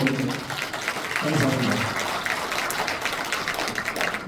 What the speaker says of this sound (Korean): 나름 열심히 했다고 생각드시면 박수 한번 주세요